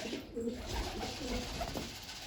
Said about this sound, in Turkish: Kuşlar arkanızda mı